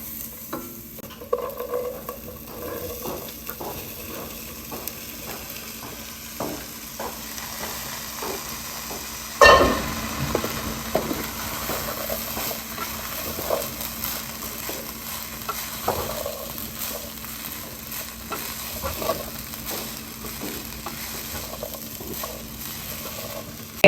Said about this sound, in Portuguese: Aí dou uma mexidinha. E coloco o feijão.